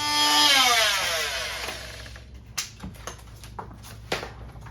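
Reciprocating saw cutting into a door frame during a prehung door installation: a loud, rising motor whine for the first two seconds, then sharp knocks and clatter as the cut ends.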